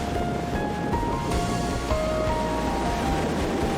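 Strong wind and rough sea waves roll in at Mui Ne beach in Vietnam, a dense, steady roar of surf with wind buffeting the microphone and no talk.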